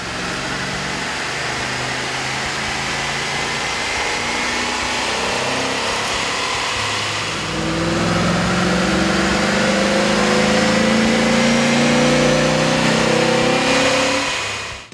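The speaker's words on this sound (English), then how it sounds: "we ran the vehicle on the dyno to test the sound comparison versus the stock intake" A 5.3-liter GM truck engine fitted with an aftermarket air intake runs on a dyno, a loud steady drone that climbs in pitch and swells midway as revs rise, then cuts off abruptly.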